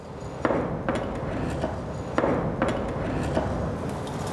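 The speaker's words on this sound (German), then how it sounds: "Pierre hat mit vielen Hammerschlägen die Schneide bearbeitet" A smith hammers the cutting edge of a scythe blade in the Celtic manner, steady ringing metal blows about every half second over a constant background noise, near and clear.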